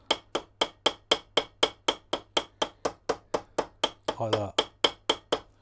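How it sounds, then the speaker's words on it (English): A hammer strikes a rivet on an old kitchen knife handle in a steady run of about twenty sharp, evenly spaced taps, close and loud, with someone briefly speaking between blows. "Helps if you hit the rivet rather than the handle."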